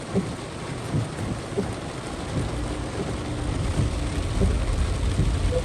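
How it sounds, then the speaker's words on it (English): Heavy rain pours steadily during a storm over a flooded estate in Lekki, Nigeria, with repeated thunder rumbles breaking through a dense, loud hiss of falling water. "Let me show you the rain."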